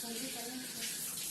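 Water poured into bitter gourd juice, a brief splashing, running-water wash under a faint voice.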